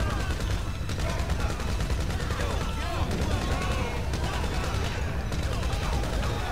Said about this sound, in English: you right by me with that Gatling gun, it is making my audio go in and out like crazy